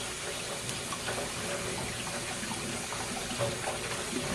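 Lemons being rinsed under cold running tap water, a steady close rush of water with light splashing and faint handling noises throughout.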